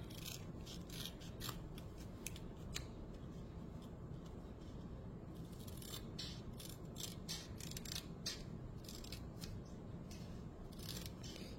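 Scissors cut a paper legend for a diamond painting with faint, repeated crisp snips over a steady low hiss.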